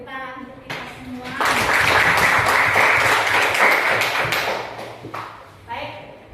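A classroom of people bursts into applause, a dense wash of clapping lasting several seconds that fades out, with a voice speaking before and after.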